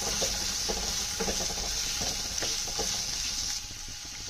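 Chickpeas sizzle and fry in a pan with turmeric and salt for halwa puri tarkari, a steady crackling hiss with occasional stirring clinks, close and without talk.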